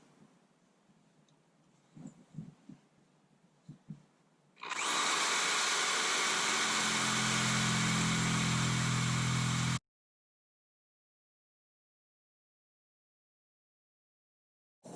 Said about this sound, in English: to cut the sprinkler line, I'm going to use Sawzall with a metal blade